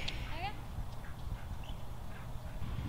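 A horse walks into a riding arena, its soft hoof steps blending into a low, continuous rumble while someone speaks over them.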